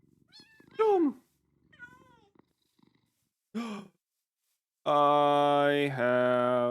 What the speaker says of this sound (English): I have kitties.